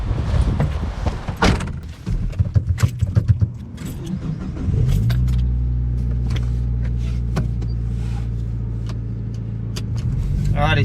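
Car doors and movement as people get into a budget Evo build fitted with a turbocharged 4G93 SOHC engine, new turbo and custom manifold, then the engine settles into a steady loud rumble as it pulls away, with voices over it.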